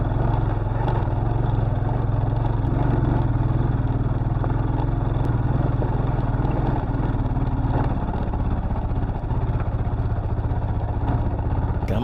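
A dirt bike's medium engine labours loud and close up a steep high-country dirt track, a steady revving drone with clattering over it, easing slightly near the end.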